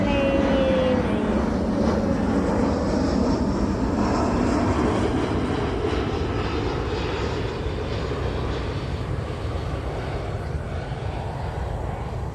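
An airplane passing overhead gives a steady, loud, low engine roar that fills the whole stretch, slowly easing slightly, with no one talking.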